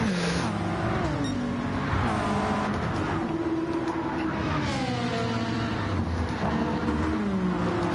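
Race car engines roar steadily through a BTCC racing video game on the Trial Mountain circuit as the pack crosses the start-finish line, with several engine notes rising and falling in pitch as cars shift and pass, loud and continuous without talk.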